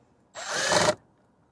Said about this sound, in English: can I get my screwdriver in there?